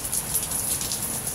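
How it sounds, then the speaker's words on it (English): A steady hiss of heavy rain pours continuously, dense and even, with no voices or other sounds standing out. "It's raining hard."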